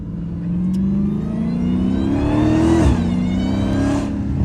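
A Dodge Hellcat revving in snow, its engine note climbing steadily in pitch over a few seconds before a sharp drop and a second rise, loud and close with no talking.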